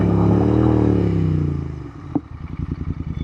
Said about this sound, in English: You know, I'm caught by the way she sounds. Those pipes are fabulous.